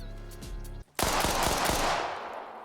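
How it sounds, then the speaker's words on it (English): Submachine gun in Arma Reforger fires a long sustained automatic burst after a brief silence, loud and close, with a rattling string of shots and a reverberant tail, no voices. "It's a submachine gun."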